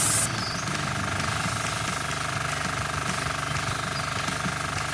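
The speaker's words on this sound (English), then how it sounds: "this one is powered by a two-stroke engine" A two-stroke engine runs steadily in a tank mechanic simulator video game, a continuous buzzing drone with a rattling low pulse that stays at a constant level throughout.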